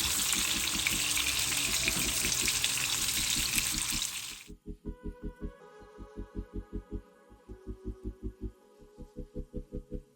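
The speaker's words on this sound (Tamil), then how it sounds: "நல்லா நம்ம 4 பக்கமும் திருப்பி விட்டு கோல்டன் கலரில் வறுத்து எடுத்துக்குவோம்." Seekh kebabs fry in a pan, turned on all sides until golden, giving a dense, steady sizzle that cuts off abruptly after about four seconds and gives way to a rhythmic thumping beat.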